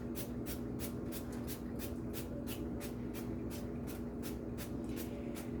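Butter spray misted onto corn on the cob in repeated short, close hissing bursts at a steady, quick rhythm, laid over a constant low kitchen hum.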